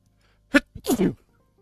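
A single sharp sneeze bursts out close to the microphone, followed a moment later by a second person's short spoken reply in a quiet room.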